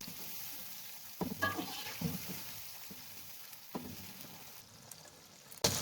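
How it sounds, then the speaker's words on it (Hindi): Tomatoes, green chillies, garlic and ginger sizzle in a hot pan, a steady fry broken by a few sharp stirring scrapes and clinks, heard close and alone. "इन सारी चीज़ों को 3 से 4 मिनट के लिए फ्राई कर लेंगे"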